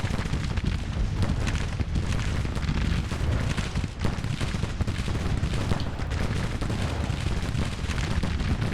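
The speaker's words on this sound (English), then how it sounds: "now bombardment's out of the way" Artillery bombardment rumbles in the Grand Tactician strategy game, a dense, continuous wall of overlapping booms and crackling fire that stays loud throughout with no pauses.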